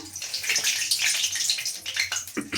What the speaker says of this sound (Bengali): তেলটা গরম হয়ে গেছে এবার এর মধ্যে আমি দিয়ে দিচ্ছি তেজপাতা